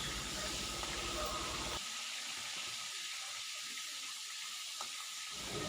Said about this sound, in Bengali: এখন এগুলোকে ভাজতে দিয়ে দিই আর একটা থালা দিয়ে ঢেকে দিই